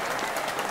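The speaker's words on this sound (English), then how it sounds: "I didn't put an applause there, but we can do a little, yes, for the giveaway." A brief burst of clapping, under a second long, comes from a small audience during a talk, steady and fairly close with no voices.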